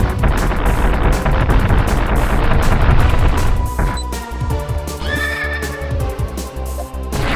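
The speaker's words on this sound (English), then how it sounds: "That sounds like a horse." A horse neighs in a Metroid 2 remake video game, a loud whinny over rumbling game noise and music, followed by quieter game effects.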